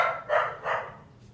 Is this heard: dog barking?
yes